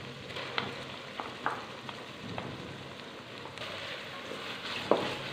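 A soft, steady sizzle of ginger, garlic and coriander paste browning in a pan for chicken shalgam curry, with occasional clicks and taps from stirring.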